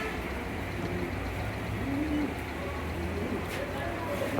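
Soft pigeon cooing murmurs through a steady low background hum, with faint bird calls scattered across the stretch and a voice heard briefly.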